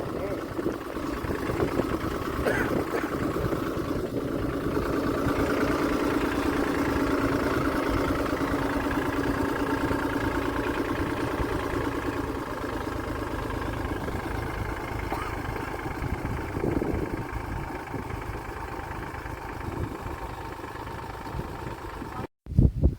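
A big farm tractor's engine runs with a steady low rumble close by, holding even for most of the stretch before easing slightly near the end, while people talk faintly over it.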